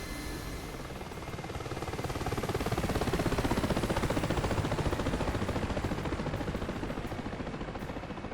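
A Mi-8MTV2 helicopter in DCS World flies with a loud, steady rotor thump and turbine roar that swells slightly midway and keeps going without pause, with no voices.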